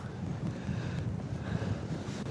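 Wind blowing across a rocky outdoor climbing spot, a steady rushing buffet against the microphone that stays constant and fairly loud throughout, with no voices.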